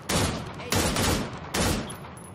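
A light machine gun in the Arma 3 Antistasi game fires three loud, close bursts, each a dense rattle of rapid shots lasting about half a second, with brief pauses between them.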